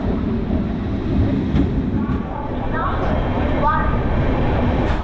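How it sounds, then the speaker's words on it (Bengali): A passenger train pulls out of platform 12 at Sealdah station with a heavy, constant low rumble and faint rail squeals, while people talk over the noise. "ঠিক 10টা 5-এ আমাদের ট্রেনটা ছেড়ে দিল শিয়ালদা স্টেশনের 12 নম্বর প্ল্যাটফর্ম থেকে"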